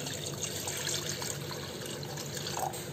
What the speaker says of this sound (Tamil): 1/2 டம்ளர் தண்ணி ஊற்றியாச்சு.